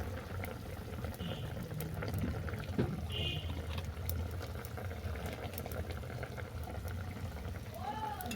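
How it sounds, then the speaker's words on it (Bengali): Raw mustard oil goes into a simmering sour hilsa fish curry with cucumber, a steady bubbling boil with a soft pouring trickle heard close up throughout, no talk over it. "টকটা আর দু মিনিট ফুটিয়ে নেওয়ার পর দিয়ে দিচ্ছি কাঁচা সর্ষের তেল"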